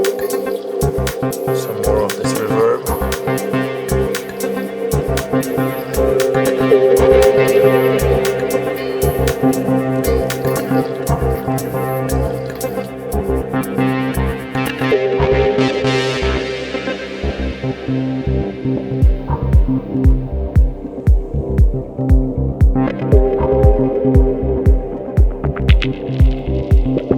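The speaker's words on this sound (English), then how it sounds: "So let me show you what you can do with the Moog. So this also runs through the Reverb." Moog synthesizer played through reverb and delay in a live dub setup, sustained droning tones with a rising sweep and rhythmic pulsing notes toward the end, loud and continuous.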